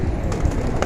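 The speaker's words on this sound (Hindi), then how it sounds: "कबूतर जो है वो खोल दिए हैं सारे, आप देख सकते हैं बाहर आ चुके हैं" Pigeons freshly let out of their cage give soft, low coos in a brief, steady murmur close by, with a couple of faint higher chirps and no talk.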